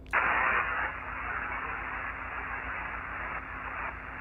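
Steady hiss of ham radio static on the 20-meter band fills the clip after a sharp click at the start, a constant band of noise with a faint hum underneath.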